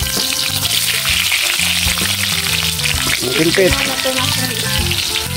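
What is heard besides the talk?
hotdogs frying in a pan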